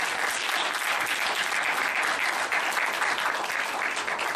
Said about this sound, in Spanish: al profesor Armando Carter, un aplauso para ellos.